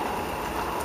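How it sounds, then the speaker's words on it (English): Steady rain falls after a long dry spell, a continuous close hiss of drops hitting surfaces with no pauses and no voices. "It's raining today."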